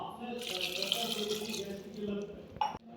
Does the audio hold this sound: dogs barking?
no